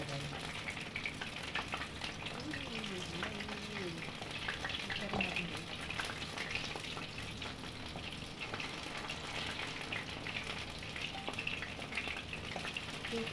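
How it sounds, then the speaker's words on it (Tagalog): Vegetable spring rolls (lumpiang gulay) frying in oil in a pan, a dense, steady sizzle and crackle that runs unbroken throughout, with faint background sounds and no clear talking. "Pagluluto tayo na lumpia na matataba."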